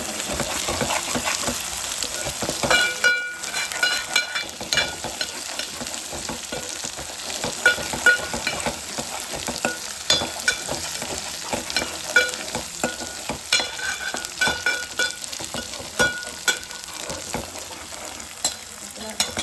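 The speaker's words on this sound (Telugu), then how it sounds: "అల్లం పేస్ట్ వేగింది చూద్దాము." Ginger paste fries in a pan with a continuous hot sizzle, broken by the repeated scrape and clatter of stirring throughout.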